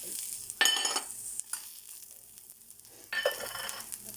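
Green and dried chilies, sesame seeds, cumin and ginger fry in a pan. Crackling sizzle bursts up as the ingredients are stirred, with a quieter gap between the bursts.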